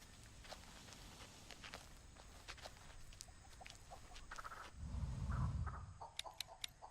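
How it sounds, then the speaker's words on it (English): Chicken clucks recorded from real hens for The Texas Chainsaw Massacre video game, brief soft clucks scattered over light footsteps, with a louder low rumble near the end. "used real chickens for the audio for Nugget"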